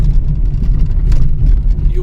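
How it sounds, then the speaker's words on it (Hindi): A Mahindra vehicle comes head-on along a road through dense elephant forest near Kotdwar, Uttarakhand, its engine a loud, steady, broad rumble that holds level for the whole stretch. "एक सामने से महिंद्रा की गाड़ी भी आ रही है"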